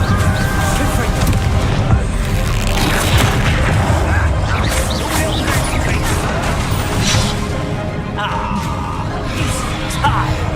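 Incendio and Confringo spell blasts in the Hogwarts Legacy video game boom and crash loudly and continuously, with dense rumbling impacts throughout the whole stretch.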